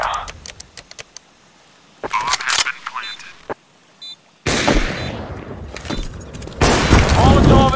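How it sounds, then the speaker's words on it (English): In CS:GO, game gunfire and bursts crackle on Inferno, with a loud flashbang-like blast surging around 4.5 seconds and again near 6.6 seconds, amid short clicks and radio chatter. "Flashbang."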